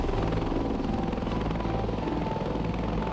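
Helicopter in the combat flight game Heliborne, a loud, steady rotor and engine drone with a continuous throbbing hum, close and unbroken throughout.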